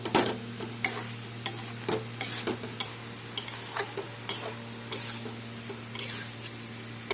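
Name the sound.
sautéing fried jackfruit and liver together in pan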